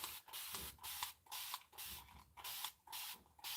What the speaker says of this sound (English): I'm not crazy about this spray bottle because I have to pump so much.